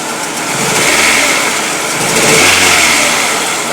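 A car engine runs rough and shakes heavily, as if on three cylinders, an uneven close-up mechanical churn with two low revving surges, no talk over it.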